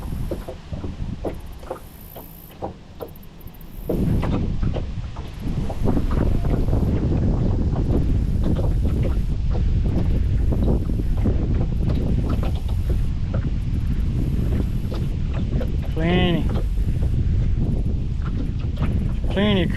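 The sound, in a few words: wind blowing over water while fishing from a boat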